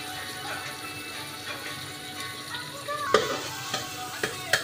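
Garlic, green chili and onion fry in a pan for daliya khichdi, sizzling loudly and steadily while a utensil stirs and scrapes, with sharper clinks toward the end.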